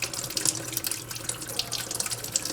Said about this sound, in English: Try and get as much antifreeze out as possible before I take it out.